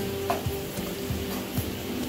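Chili being stirred into vegetables for a momo filling in a hot pan, with a steady sizzle and a few soft scraping strokes of the spoon, close and continuous.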